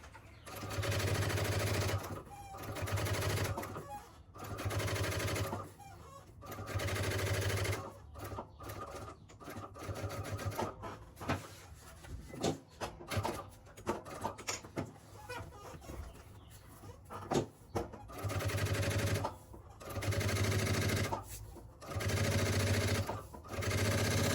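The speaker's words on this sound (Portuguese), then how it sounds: "eu fiz uma costurinha de pesponto na parte de baixo e daí eu assentei a parte de dentro" A sewing machine topstitches the seam of a fabric toiletry bag, running in repeated bursts of steady rapid whirring separated by short pauses, with faint background sounds in between.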